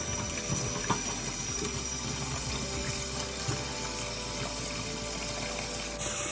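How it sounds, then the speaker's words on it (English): Hot water runs from a tap into a bowl of strawberries in a kitchen, a steady gushing, close-up stream that continues throughout with no talking. "And then fill the bowl with hot water."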